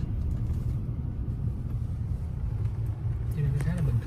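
Congested street traffic in Saigon, a steady low rumble of engines and vehicles idling and creeping along, continuous and fairly close, with someone talking over it throughout.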